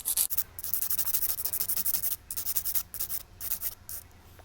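A coarse nail file scrapes rapidly back and forth across acrylic nails, close and crisp in quick rhythmic strokes with brief pauses and no talking.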